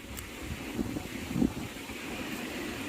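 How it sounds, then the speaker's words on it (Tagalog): Strong typhoon wind blows steadily across a coastal spot where boats lie damaged, a constant roaring rush with a few louder gusts and no talking. "Mahangin pa rin. Lakas ng hangin."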